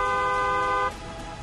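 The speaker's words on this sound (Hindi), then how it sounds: "दूसरों को भी सावधान करने के लिए हॉर्न बजाएं" A car horn blares in one steady, loud honk lasting almost a second, then cuts off, leaving quiet background noise.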